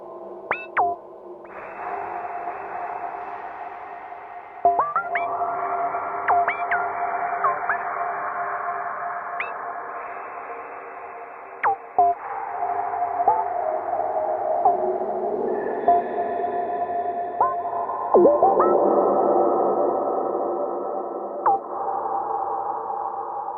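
Sustained synth tones with sharp pitch sweeps through a Dreadbox RainDrops delay, trailed by washy, repeating echoes that build into a smeared, continuous wash.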